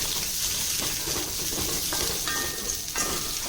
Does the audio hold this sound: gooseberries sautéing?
yes